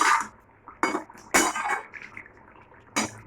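A metal lid lifted off a cooking pot of simmering potato curry, giving a few sharp clinks and scrapes spaced apart, close and fairly loud against a quiet kitchen.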